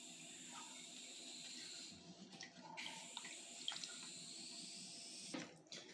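Water runs steadily into a shrimp tank, a faint continuous hiss and trickle with a few small clicks and bumps near the end and no speech.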